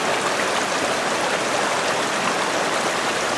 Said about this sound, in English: cold, clear water rushes down mountain streams to join the Skagit